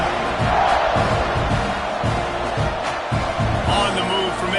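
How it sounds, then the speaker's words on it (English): A football stadium crowd at a college game between Texas A&M and UCF buzzes in a loud, continuous roar after a score, with rising and falling swells and a commentator talking over it. "this crowd is buzzing after that last score."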